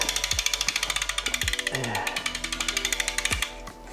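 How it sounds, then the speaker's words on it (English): A 15-16 inch breaker bar with an 8 mm hex socket works the chainring bolts on a road bike double crankset, producing a steady run of rapid close ratcheting clicks across the clip before it stops near the end. "So I'm going to break out the breaker bar."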